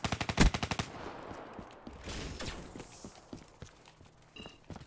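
Rapid automatic gunfire in Black Ops 3 hardcore free-for-all, a quick burst of about eight sharp shots up front, followed by scattered distant shots, impacts and footsteps.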